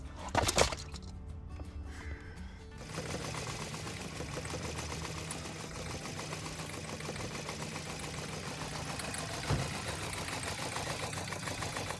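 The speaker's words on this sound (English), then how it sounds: "this customer had just bought this BMW that came in with a pretty bad engine knock" A newly bought BMW with a bad engine knock idles with a fast, even tapping clatter that runs on steadily, up close and fairly quiet, with no voices.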